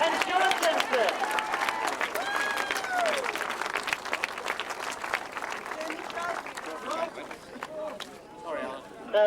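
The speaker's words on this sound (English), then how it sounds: "let's have a round of applause for second place finishers, Rob Bradley and Sean Simpson." Crowd applause at a British Masters grasstrack motorcycle racing award ceremony in 2010, scattered claps running throughout at moderate volume while an announcer talks over them.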